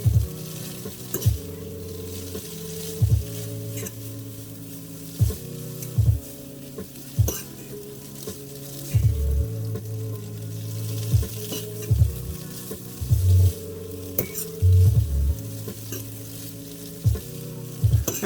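Instant noodles stirred in a pan of sizzling onion-seasoned oil, a steady fry hiss broken by repeated scraping stirs and soft clatter at a regular pace, close and alone with no talk.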